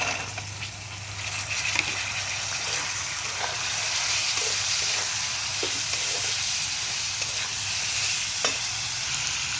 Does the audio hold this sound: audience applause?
no